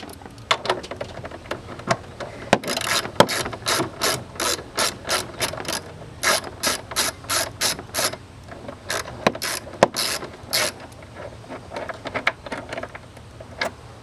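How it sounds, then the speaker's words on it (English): An 8mm socket ratchet loosens a band clamp on a Dodge Charger, giving rapid bursts of close, crisp pawl clicks in repeated short strokes with brief pauses between them. "unscrew the band clamp right here with an 8mm socket"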